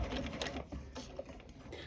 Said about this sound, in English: I'm just going to really take my time sewing around here